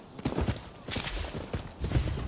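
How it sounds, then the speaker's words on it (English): Galloping horse hooves from riding in the video game Rise of Ronin, a fast uneven run of thudding beats with bursts of rustling, fairly loud and without talk. "I'm just gonna travel on horses."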